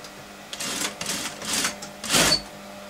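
A sewing machine runs in several short bursts while stitching ladies' trousers, each whirring run a fraction of a second long, with the last burst loudest.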